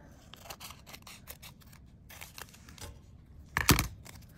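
A sharp, loud snip of scissors cutting metal tape near the end, preceded by scattered small clicks and rustles of handling the tape.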